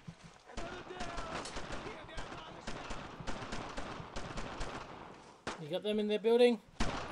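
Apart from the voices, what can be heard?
gunfire in the video game Brothers in Arms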